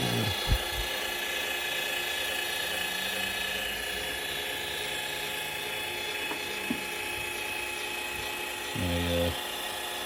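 A motorized mixing surface slides out of a home studio desk with a steady, close mechanical whir and a faint clicking ratchet, and a brief louder burst of motor noise comes near the end.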